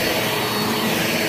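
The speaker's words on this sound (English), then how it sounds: "This vacuum right here beats Dyson" A vacuum cleaner runs on carpet, a loud, steady broadband roar with constant airflow hiss, close up and alone without talk.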